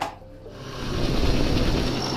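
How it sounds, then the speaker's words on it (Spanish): A drill powering up in Astroneer, starting quietly then rising into a steady buzzing mechanical whir that holds at a fairly loud, even level. "El C activa lo que es el taladro."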